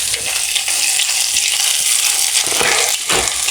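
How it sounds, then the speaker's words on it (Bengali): A hot Bengali spice tempering with raw cumin is poured from a well-seasoned iron wok into cooked taro greens, giving a loud, close, continuous sizzle that hisses steadily throughout. "এবার আমি এই কচুর মধ্যে ঢেলে দেবো এগুলো"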